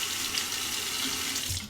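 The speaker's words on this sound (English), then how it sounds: "Temper the razor under the hot water." Hot water runs steadily from a tap into a sink to rinse a razor, a close, continuous splashing hiss with no talk, lasting just under two seconds.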